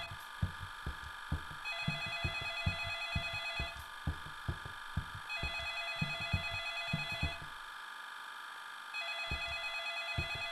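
A telephone rings in a dark horror video game, repeated electronic ring bursts in steady cycles over a pulsing, heartbeat-like low throb, with one brief pause near the end.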